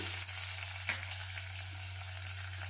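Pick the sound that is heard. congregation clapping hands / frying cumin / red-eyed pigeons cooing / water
frying cumin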